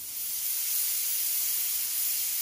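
A pressure cooker whistles steadily while beef nilaga cooks inside, giving a loud, continuous high hiss of escaping steam that runs unbroken with no voices.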